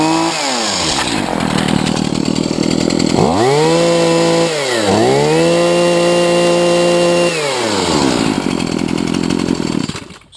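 A weed eater's small two-stroke engine running with its spark arrestor screen removed, loud and close, revving up and down in several long high-pitched surges before cutting off.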